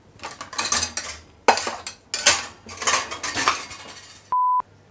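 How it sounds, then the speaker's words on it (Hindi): A melamine plate clattering in a modular kitchen, several loud, bright bursts of hard clinks and scrapes against dishes and cutlery in quick sequence, ending in a short electronic beep tone. "तो पहले हम एक लेंगे मेलामाइन की प्लेट, इतनी आवाज हो गई"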